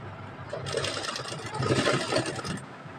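A short burst of sewing-machine stitching on a baby girl's dress, a close, brief whirring run lasting a couple of seconds.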